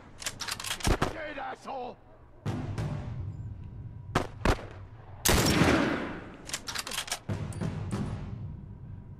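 Sharp gunshots from The Last of Us sound as single loud cracks and short clustered volleys, each followed by a brief echo, with quiet gaps between them. A player talks and shouts in between the shots.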